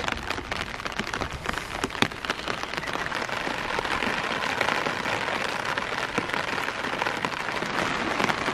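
Steady rain falls on a surface on a cold day, a dense continuous patter close around the listener with scattered louder drops and no voices.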